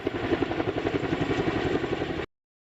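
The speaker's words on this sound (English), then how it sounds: "heavy lift helicopter normally used in military operations is now fighting a battle here" A Chinook heavy-lift helicopter's rotor thumps in a rapid steady rhythm with engine drone at Tulare Lake, fairly loud, then cuts off abruptly.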